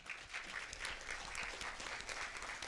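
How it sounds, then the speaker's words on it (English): A council meeting audience applauds a planning commissioner seated among them, a dense, steady patter of clapping that holds evenly for about three seconds at moderate, slightly distant level. "Let's give him a round of applause."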